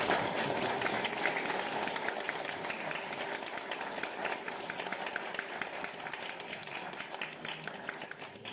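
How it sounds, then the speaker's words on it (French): Crowd applause at a children's Christmas show, steady dense clapping from a room of people that carries on evenly throughout, fairly loud and close. "on peut peut-être applaudir pour encourager"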